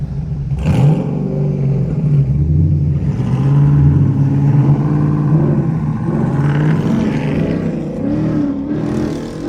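A Ford Mustang GT engine revs hard in first gear on a city street, its loud rumbling tone climbing and falling through several pulls. A brief higher rasp marks the opening second.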